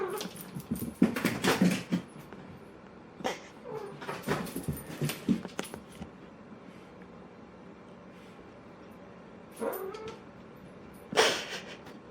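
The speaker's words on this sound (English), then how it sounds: "And that, ladies and gentlemen, is my cat." A pet cat playing with a favorite toy, letting out several yowling meows and caterwauls in scattered bursts, fairly close, with quiet pauses between.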